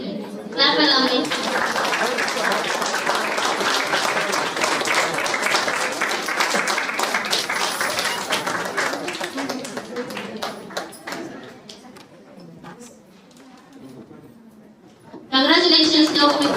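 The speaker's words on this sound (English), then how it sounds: "Clap along me." Steady rhythmic clapping from an audience at a school drawing competition keeps time under loud music or amplified sound, fading lower near the end before a sudden loud return.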